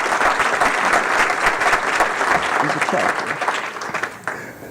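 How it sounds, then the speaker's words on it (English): An audience applauds for families and scholarship recipients at a ceremony, a loud, dense wash of many clapping hands that holds steady and then tapers off near the end. "So I'd like to give the families, the parents, the families, and the scholarship recipients one more round of applause"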